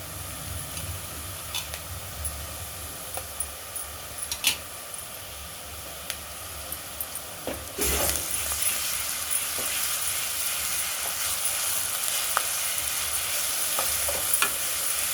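Ginger and garlic frying in hot oil for a stuffed brinjal (gutti vankaya) masala curry, a steady sizzle with scattered stirring clicks that grows louder and brighter about halfway through, with no talking.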